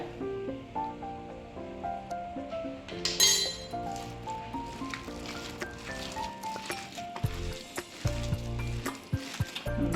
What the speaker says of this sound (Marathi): हे तेल आपलं तापलेलं आहे यातला एक चमचा गरम गरम तेल या आपल्या पिठावर घालूया